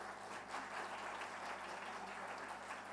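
Audience at an education conference in a large hall applauding, a faint, steady wash of clapping from many hands at a distance, with no talking over it.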